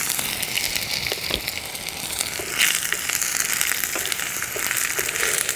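Chopped tomatoes frying in a pan with black cumin, bay leaf, cardamom, cinnamon and cloves for a Bengali rui fish curry, a steady bright sizzle with occasional crackles and stirring scrapes, no talking.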